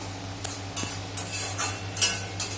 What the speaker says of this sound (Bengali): এবার একটু নাড়িয়ে চালিয়ে নিচ্ছি।